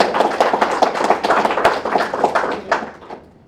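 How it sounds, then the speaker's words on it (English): Scattered hand clapping from a modest audience at a National Reconciliation Week health network gathering, a few distinct nearby claps pattering unevenly before fading out to quiet. "give him one more round of applause"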